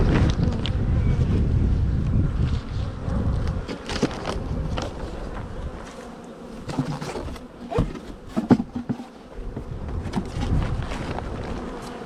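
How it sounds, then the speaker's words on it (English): Gusty wind buffets the microphone outdoors by open beehives, a steady roaring rush that eases and returns in bursts, with the faint hum of bees beneath and occasional knocks of hive parts being handled. "Getting windy back again."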